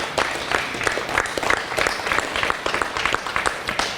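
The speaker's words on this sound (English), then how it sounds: "Let's give Lee a big round of applause." An audience in a room claps for a school resource officer being honored by the West Fargo police, a steady, dense round of applause of even loudness lasting about four seconds with no voices over it.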